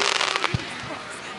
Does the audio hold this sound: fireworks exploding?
yes